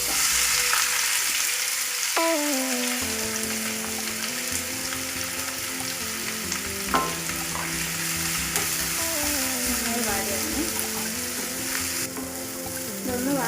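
Chopped onion and curry leaves sautéing in hot oil, a loud steady sizzle with scraping stirs, metallic clinks and a gliding tonal squeal throughout.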